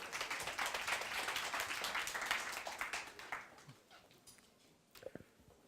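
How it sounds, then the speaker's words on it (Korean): An audience at a blockchain-gaming investment talk claps to welcome the presenter, a dense burst of applause that tapers off after about four seconds, leaving scattered final claps and faint room noise. "그럼 대표님을 큰 박수로 맞이해 주시기 바랍니다"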